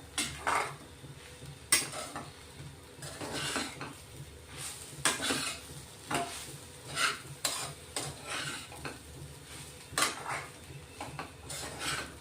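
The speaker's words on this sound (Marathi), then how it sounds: "एक 5 मिनिटं चांगलं परतून घ्यायचं, म्हणजे पूर्ण मसाले लागले पाहिजे" Crumbled leftover chapati being sautéed with spices in a pan, heard as steady scraping and stirring with the clink of a utensil against the pan over a soft sizzle, moderately close and continuous, with no talking.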